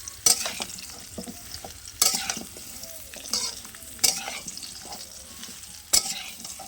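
Raw mango pieces stirred in hot oil in a pan while making pickle, soft continuous sizzling with sharp scraping strokes of the spoon against the pan about every two seconds.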